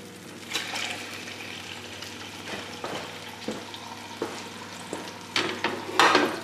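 Fish cooks in a pan with butter and white wine, giving a continuous bubbling sizzle with occasional louder spits and pops building toward the end; close by, with no talking.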